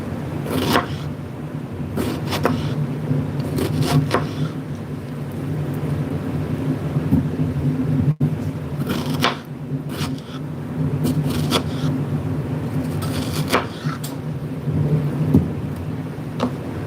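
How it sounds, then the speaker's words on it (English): Steady rain falls through a long stretch with no talk, a continuous broadband wash punctuated by brief louder spatters and a low rumbling hum underneath. "You guys enjoying the rain sounds?"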